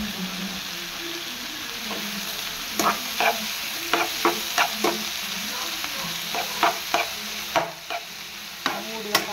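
Onions and tomatoes frying in a pan for prawn biryani, a continuous sizzle under repeated scraping stirs of a spoon, close and fairly loud with an irregular rhythm of clacks.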